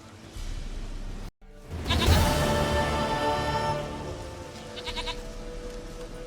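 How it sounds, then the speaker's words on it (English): A goat in the fantasy video game The Witcher 3 lets out one loud, drawn-out bleat after a brief silence, its wavering cry trailing off over about two seconds, followed by quieter ambient game sound. "Goat of mine, dearest, sweetest goat."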